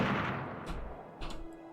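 Gunfire in the Iron Harvest strategy game, a few quiet distant shots popping over a low rumbling battle backdrop.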